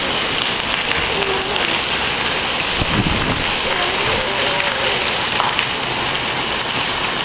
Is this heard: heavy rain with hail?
yes